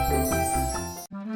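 An ice cream truck's tinkling jingle plays through a suburban neighbourhood in a Bluey cartoon, a bright melodic chime tune that cuts off abruptly near the end before a single sustained tone resumes.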